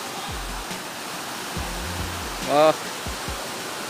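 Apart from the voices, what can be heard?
flowing water at Dao Falls waterfall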